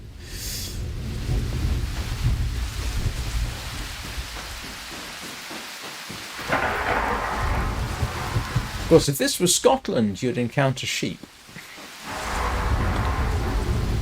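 Steady rain and rolling thunder rumble from an outdoor hiking video game, a continuous low wash of downpour with deeper thunder swells, while someone talks over it.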